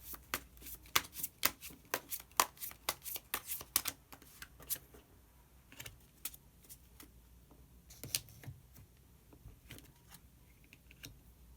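Tarot cards are shuffled by hand in quick bursts of crisp riffles and slaps, close and clear, with short pauses between groups and no speech.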